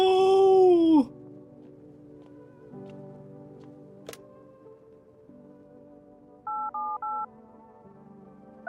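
A phone number is dialed in the video game No, I'm Not a Human, giving three short electronic touch-tone beeps in quick succession, clear and isolated against a low ambient hum after a brief musical sting.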